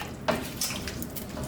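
Water pours into a pot of pommecythere (June plum) curry, a short faint splash and trickle at close range lasting about a second.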